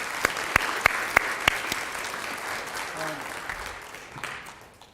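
Conference audience applause: several sharp separate claps stand out early, then blur into a softer wash of clapping that gradually fades out toward the end.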